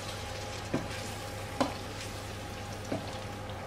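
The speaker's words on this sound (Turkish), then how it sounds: "Şöyle karıştırıyorum biraz." Grated tomato sauce being stirred in a pot for meatball stew: a faint steady simmering hiss with three soft spoon taps spaced about a second apart.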